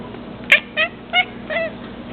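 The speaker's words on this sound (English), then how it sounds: "Another hunting sound is a chirp." Four short chirping calls from a hunting cat, evenly spaced across about two seconds, the first sharpest and loudest, the rest softer and slightly trilled, heard close against a quiet background hum.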